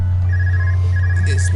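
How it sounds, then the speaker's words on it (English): A phone rings in the video game Trails of Cold Steel, coming from a portable orbment device: a steady electronic tone in two bursts over a loud constant low hum, with some faint background sound near the end. "All right, whose phone is ringing?"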